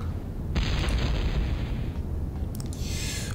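Bomb blast in the video game TechnoMage, a broad booming burst with a sustained rumble and a high whine, ending in a short hissy crackle, heard alone without talk.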